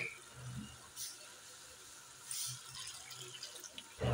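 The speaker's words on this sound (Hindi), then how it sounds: "मसाला डाल के मैं इसमें फौरन पानी शामिल करूंगी थोड़ा सा।" A small amount of water is poured into keema masala frying in a pan, giving soft splashing and a faint sizzle at low level, with brief louder splashes, and a quiet background.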